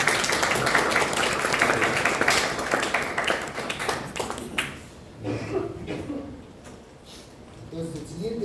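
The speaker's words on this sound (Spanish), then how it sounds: "Un aplauso para los chicos," Applause for students fills a classroom, steady and dense at first, then thins out and fades as scattered claps and low voices take over.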